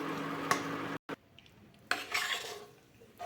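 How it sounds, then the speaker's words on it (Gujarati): Urad flour roasting in a pan while a spoon stirs it, giving soft scraping strokes and faint sizzling, quiet and close with a brief gap of near silence partway through. "અડદના લોટને શેકાવા દેવાનો છે અંદર સુધી એકદમ સારી રીતે કૂક થવા દેવાનો છે"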